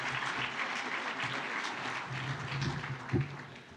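Conference audience applauding a speaker at the Pennsylvania Leadership Conference, a steady wash of many clapping hands filling the room throughout, with a brief louder burst near the end.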